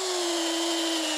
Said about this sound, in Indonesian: untuk uji coba pertama di sini saya menggunakan mata bor kayu ukuran 10 mm